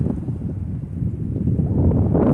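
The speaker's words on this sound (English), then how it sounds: "And as always, it's so windy out here." Strong wind blowing outdoors at a camp in El Paso, Texas, buffeting the microphone as a continuous low, rumbling roar with uneven gusts that swell louder toward the end, with no one talking.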